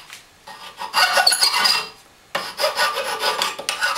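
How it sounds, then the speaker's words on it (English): Hand file rasping the uneven hacksaw-cut edge of metal stock for a bamboo bicycle trailer wheel bracket, two loud scraping bursts of back-and-forth strokes separated by a brief pause, alone and close. "it leaves an uneven edge, which means I'm going to have to file it"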